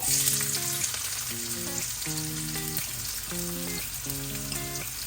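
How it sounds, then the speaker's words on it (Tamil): Onions frying in hot oil with popped mustard seeds for a Sri Lankan egg roll filling, a dense steady sizzle throughout under loud background music. "எண்ணெய் காஞ்சிட்டு இதுக்குள்ள ஒரு கரண்டி கடுகு பிடிக்கட்டு இப்போ பொரிஞ்சு வந்துட்டு இதோட எடுத்து வச்சுக்கிற வெங்காயம்"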